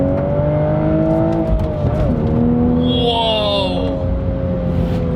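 A 2023 Toyota Supra with a manual gearbox pulls in second gear, its engine note rising steadily and loud and close, with a brief dip near the middle and a faint higher whine above.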